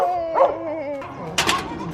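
A dog barks and yips close by out on a street walk, several short sharp barks with whiny, howl-like tones, followed by a louder burst near the end.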